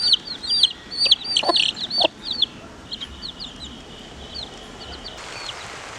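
A mother hen with her chicks, high peeping from the chicks in quick bursts that fade to softer, sparser calls, with a few low clucks beneath.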